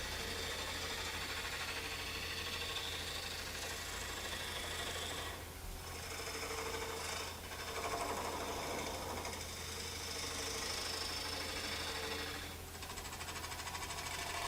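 A wood lathe spins with a constant hum while a cutting tool scrapes and rasps against a wooden bowl rim, facing it off, the cutting easing off briefly now and then.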